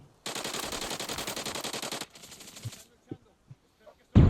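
Automatic rifle fire in Arena Breakout, a long rapid burst of loud close shots followed by a shorter quieter burst, then a few isolated single shots and a final sharp blast.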